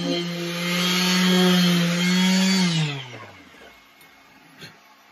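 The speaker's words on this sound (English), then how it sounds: "I'm actually going to take this and sand this, just this back part down just a little bit." Power sander working on the back of a wooden cutting board, a loud steady whirring drone that winds down and stops after about three seconds, leaving near silence.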